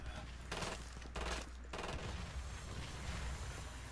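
AA-12 automatic shotgun fire in the video game Killing Floor 2, with dense bursts of rapid blasts broken by brief pauses and a continuous game soundscape behind them.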